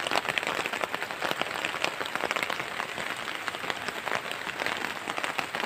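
Rain falls steadily in a garden among plants, a dense, even patter of drops hitting surfaces that stays close and constant throughout.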